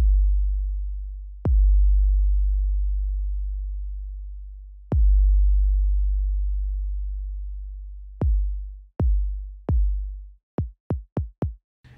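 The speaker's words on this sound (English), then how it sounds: "If you turn the decay down, it's going to basically create a shorter sounding 808." Short 808 bass notes synthesized in Logic Pro X with the decay turned down: deep sub-bass hits with a click at each start, two long tones, then three shorter ones and a fast run of five clipped hits, all alone and loud.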